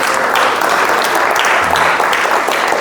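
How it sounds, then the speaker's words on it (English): An audience at a teenage program breaks into dense, steady applause, many hands clapping together close by without pause for a few seconds. "Give him applause again."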